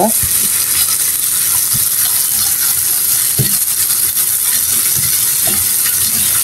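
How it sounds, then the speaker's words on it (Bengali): Cauliflower, vegetables and cooked chicken being stirred together in a hot pan give a loud continuous sizzle with frequent scraping and clinking of the spatula against the metal. "এখন সবগুলি উপকরণ ভালো করে আমি মিশিয়ে নিব।"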